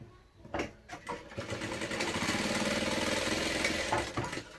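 A sewing machine stitches fabric for a children's animal-themed backpack, a steady mechanical whirring hum running for a couple of seconds after some brief handling knocks.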